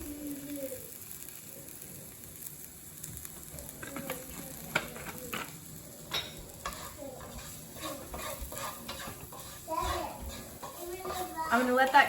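Vegetables seasoned with carne asada seasoning sizzle and get stirred in a hot pan, a steady frying hiss with scraping and clinks, with a voice faintly in the background.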